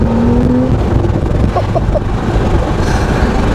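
A gray Porsche 911T of the 991.2 generation, rear-engined, pulls away under power, its loud broadband engine roar steady and close throughout, heard from inside the car.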